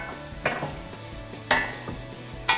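Metal clanks and knocks as a factory skid plate is lined up and fitted back onto a Jeep Gladiator JT, three sharp close impacts spaced about a second apart over low background hum.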